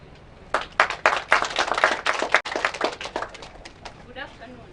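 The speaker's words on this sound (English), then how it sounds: "let us give a round of applause to Madam Cecilia, the director of the JFC" Audience applause for the director of a college, a dense burst of many hands clapping that swells quickly and continues steadily, with a voice rising near the end as it fades.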